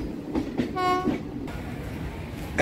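The Hazarduari Express at Ranaghat station, with a loud, close train horn blast of about half a second in the middle of a rumbling, clattering rail background.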